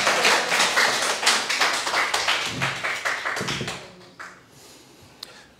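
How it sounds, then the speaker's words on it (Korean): A church congregation applauds in praise during a Feast of Trumpets sermon, with dense overlapping clapping that fills the first four seconds before fading into near silence and a single late tap. "우리 하나님께 영광의 박수 올려드리겠습니다."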